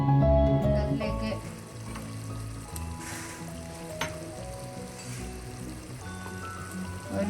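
Tomatoes frying in a pan of hot oil for chicken biryani, a loud steady sizzle over a low humming background with a few tonal kitchen hums and a sharp click near the middle.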